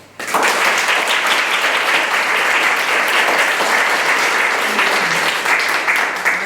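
An audience at a Kopačka folk gathering breaks into strong, sustained applause welcoming guests, dense clapping starting abruptly and continuing steadily to the end.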